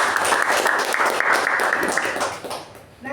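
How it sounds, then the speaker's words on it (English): A room of club members at a Toastmasters meeting applauds a speaker, the clapping dense and steady for about three seconds before it thins out near the end. "A big round of applause to Toastmasters."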